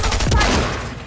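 A short, dense burst of submachine-gun fire in an online battle-royale shooter, loud and close, with rapid rounds blurring into one continuous rattle for about a second.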